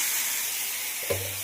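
Fish pieces dropped into a hot pan of spice paste that has been fried down, giving a steady close sizzle, then a soft thump and a louder burst of frying as the fish hits the oil.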